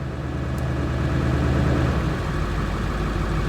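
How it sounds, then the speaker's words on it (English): A Ford 7.3 diesel truck engine tuned to about 1100 horsepower holds a steady, loud, rumbling high idle with constant low-frequency drone and vibration. "1100 horsepower high idle."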